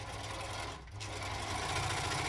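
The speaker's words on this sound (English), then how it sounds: "Basically, we're going to overlock every single seam" An overlocker sewing machine runs steadily while overlocking a sleeve seam on a McCall's M8083 garment, a close, continuous whirring hum with a brief dip in the middle before resuming.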